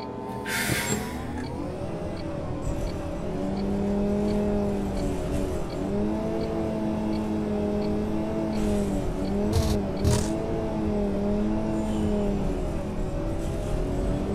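A MAN Lion's City CNG city bus driving in Omsi 2, a steady engine drone with shifting tonal whine as it pulls away and cruises, plus a few brief clunks and hisses along the way.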